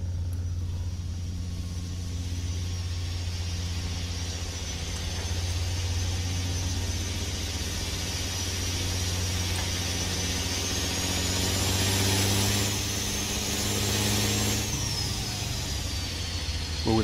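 A Cat 3406E diesel truck engine in American Truck Simulator rumbles steadily, with a high turbo whistle rising and falling over it. The sound continues without a break and stays fairly loud.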